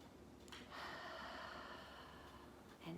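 A child-paced mindfulness exercise in a classroom lesson: a single slow, audible inhale through the nose builds and holds for about two seconds, soft and close, with no talking over it.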